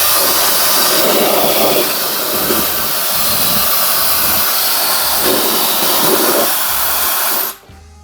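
A WeBeauty Hype-Air 3-in-1 hair dryer blows a loud, steady airy whoosh with a faint motor hum for several seconds, then cuts off abruptly at the end.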